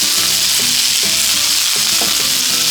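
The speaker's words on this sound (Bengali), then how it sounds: "এটা মশলার জন্য ভেজে নিব অল্প। হালকা করে অল্প ভাজবো" Onion, tomato and green chillies frying lightly in mustard oil, a loud, steady, close sizzle with soft stirring scrapes at a regular pace and no voices.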